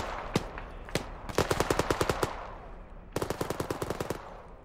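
Automatic rifle fire in a military shooter game sounds out as several sharp rapid bursts, one short and two longer strings of evenly spaced shots, over a low background rumble.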